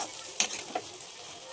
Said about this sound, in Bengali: আর এখানে মশলাটা কষাচ্ছি।